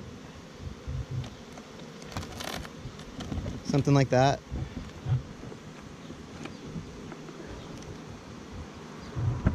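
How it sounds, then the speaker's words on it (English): Honey bees buzz around a hive box as they are smoked out of a cavity, a steady, fairly faint drone that runs throughout, with a person briefly talking partway through. "So now that we've got the bees moving, they want to go back to their main entrance, right?"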